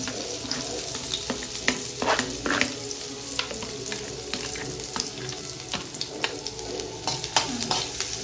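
Onion fries in hot oil for simple Maggi noodles, a close, steady sizzle with sharp crackling pops and occasional stirring clatter, no one talking over it.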